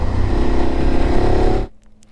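A BMW F850 GS Sport motorcycle with an Akrapovic exhaust runs close by with a loud, throbbing engine note, then cuts out abruptly into near silence.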